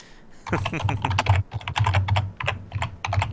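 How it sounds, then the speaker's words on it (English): Rapid clatter of computer keyboard typing during a live online stream, uneven bursts of keystrokes close to the microphone with a low hum beneath, no voice over it. "I'm just gonna wait for you to finish typing there"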